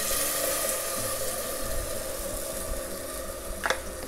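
Ground masala paste sizzles in a pan with fried garlic for a Malvani tarli (sardine) fish curry, a steady soft hiss and frying crackle under scraping stirring, with a brief louder scrape near the end.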